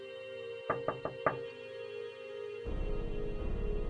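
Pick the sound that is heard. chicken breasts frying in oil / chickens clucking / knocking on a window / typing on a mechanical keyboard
knocking on a window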